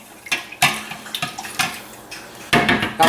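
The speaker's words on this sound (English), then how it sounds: "We're going to stir this all around." A utensil stirs teriyaki marinade in a bowl, giving a series of close, sharp clinks and scrapes at an irregular rhythm, with a louder cluster of knocks near the end.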